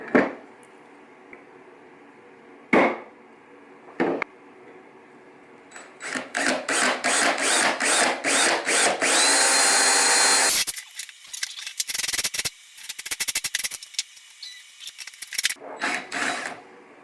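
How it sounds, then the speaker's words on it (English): Power drill boring a hole in a steampunk rocket lamp, with short bursts of whirring and grinding at first, then a longer sustained run and a few choppy follow-up bursts, close and loud with no talking. "I'm going to drill a hole and stick it in there."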